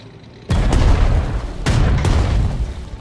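Artillery explosions in the strategy video game Strategic Mind: Spirit of Liberty, two loud deep booms with heavy rumbling tails, close and dominant, no talk.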